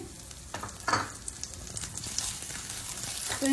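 Grated coconut, raisins and cashews frying in a pan over low flame, a soft continuous sizzle with occasional stirring scrapes up close.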